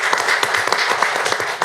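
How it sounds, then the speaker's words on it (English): Audience at a Joliet Junior College board of trustees meeting applauding the college advisors, a dense burst of clapping filling the room, loud and close, with no talking over it. "if you all would again give a round of applause to our advisors"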